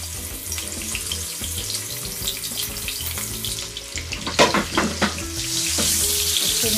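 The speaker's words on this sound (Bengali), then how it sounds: "এখন আমি একটা একটা করে মাছটাকে তেলের মধ্যে দিয়ে" Lachha fish pieces are dropped one at a time into hot oil in a frying pan, a close, continuous sizzle with sharp crackling bursts midway that swells into a louder, steady fry toward the end.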